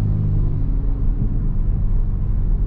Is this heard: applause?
no